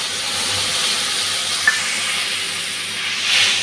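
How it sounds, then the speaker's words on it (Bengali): Mixed spice paste hits hot oil in a pan with bay leaf, green chilli and five-spice seeds, giving a steady close sizzling hiss that stays even throughout. "এখন গুলে রাখা মশলাটা দিয়ে দিচ্ছি"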